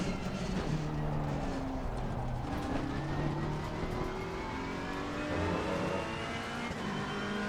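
A Ferrari GT race car engine in Assetto Corsa Competizione under automatic shifting, a loud sustained drone with rising revs dropping at each upshift, continuous throughout.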